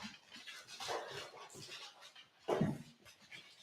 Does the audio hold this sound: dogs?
yes